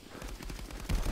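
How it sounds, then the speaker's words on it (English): Rapid bursts of gunfire in the VR shooter game Contractors, a quick volley of loud, closely spaced shots rattling from somewhere unseen, ending in heavier hits. "I'm being shot at from somewhere."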